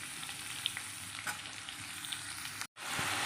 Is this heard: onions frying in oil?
yes